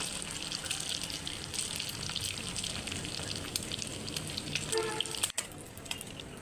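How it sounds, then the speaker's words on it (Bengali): Slices of bread dipped in egg fry in a pan, a steady close hiss and sizzle filling the whole stretch with small crackles and one brief clunk near the end. "আজকে ডিম দিয়ে পাউরুটি দিয়ে ভেজে খাবো"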